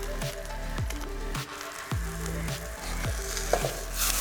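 Veggie quesadillas fry in a pan with a dense, steady crackling sizzle, punctuated by sharp pops and spatters close by, and no voices.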